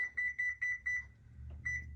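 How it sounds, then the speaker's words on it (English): A kitchen timer beeps in a rapid repeating pattern of short, bright electronic tones, loud and close, pausing briefly before one more beep, with a low rumble of room noise underneath. "I'm sorry you'll get this beep, beep, beep."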